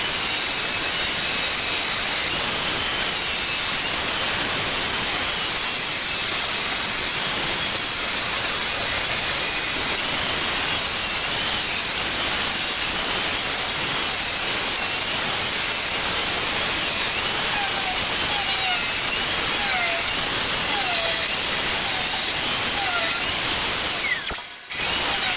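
A cutting tool runs steadily through tiles around a bathtub during a tub-to-shower remodel, a loud, continuous hissing grind that holds for the whole stretch before cutting off abruptly near the end.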